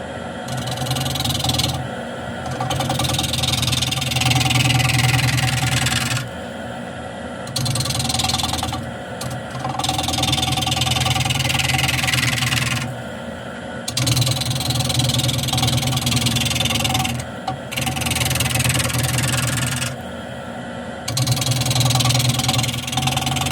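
A long-flute gouge cuts wood on a spinning lathe, giving a steady motor hum and a hissing, scraping cut. The cut comes in repeated passes several seconds long, separated by short quieter gaps.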